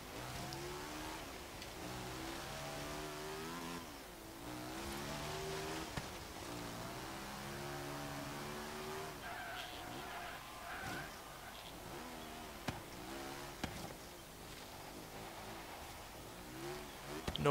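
A 1957 BMW Isetta 300 Export, modified with extreme power, revs its small engine in Forza Horizon during an autocross run. Its buzzing note climbs and falls steadily and stays close and continuous throughout.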